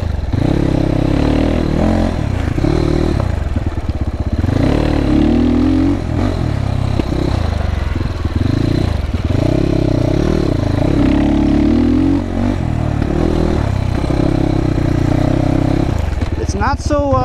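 A GPX FSE300R motorcycle engine drones loudly while riding, its pitch rising and falling through repeated revs and gear changes, with a voice speaking over it.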